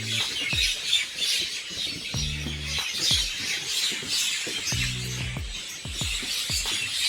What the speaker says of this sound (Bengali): গোলপাতার ভিতরে এত সুন্দর পাখির ডাক